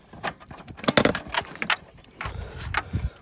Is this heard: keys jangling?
yes